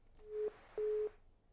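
A phone line gives a busy tone after a call disconnects: two short, quiet, even beeps with a pause between, over a faint hiss.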